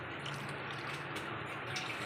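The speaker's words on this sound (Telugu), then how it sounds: "ఇలా అన్నీ బాగా కలిపేసుకున్న తర్వాత పొడిగా ఇప్పుడు మనం నీళ్ళు పోసుకోవాలండి" Water pours steadily into a dry mix of rice flour and grated bottle gourd for Telangana sarva pindi batter, a continuous close splashing trickle lasting about two seconds with no talking.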